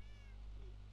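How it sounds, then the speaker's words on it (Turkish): A single short cat meow in a Minecraft Animal Bikes mod, faint over a steady low background hum, with no clear talking. "Yok, bu kedi ve yavruları var."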